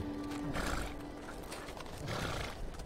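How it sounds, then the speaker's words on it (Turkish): Horses that have rested long in a stable in rural Anatolia move and snort, giving faint rustling, breathy bursts and muffled shuffling in a reverberant space. "uzun süredir ahırda dinlenen atlar biraz isteksiz"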